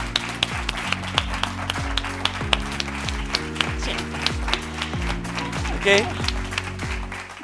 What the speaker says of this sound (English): I ask for a big applause to them.